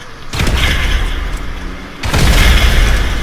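A Faggio scooter blowing up in GTA V, heard as a loud, close booming explosion with a rumbling tail, followed by a second heavy blast about two seconds later.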